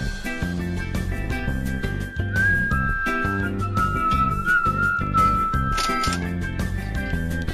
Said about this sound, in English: Sorry if I'm whistling and it's putting you off.